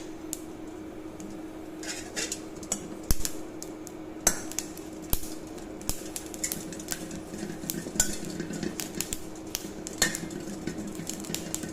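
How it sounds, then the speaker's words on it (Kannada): Green chilies dry-frying in a pan without oil for a ridge gourd and green chili chutney, heard as a low sizzle under frequent sharp clinks and scrapes of a spoon against the metal pan. "ಈಗ ಒಂದು ಬಾಣಲೆಯಲ್ಲಿ ಈ ಮೆಣಸಿನ್ಕಾಯಿ ಹಾಕಿ ಫ್ರೈ ಮಾಡ್ಕೊಳ್ತಾ ಇದ್ದೀನಿ"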